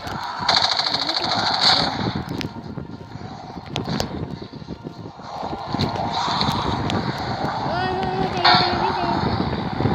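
Automatic gunfire in Call of Duty Mobile zombie mode rattles in rapid bursts through a busy game soundscape while someone talks over it.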